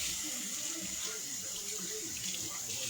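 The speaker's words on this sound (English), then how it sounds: "Let me rinse off my onion." Water runs steadily from a kitchen tap as an onion is rinsed under it, a continuous close hiss of flowing water with faint background talk while a home cook prepares Sunday dinner.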